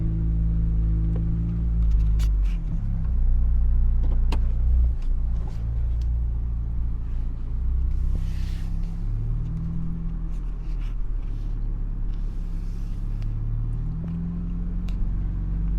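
Ford Bronco on 37-inch tires reversing at full steering lock off-road, a steady low engine rumble with faint tire and suspension noises, no talking.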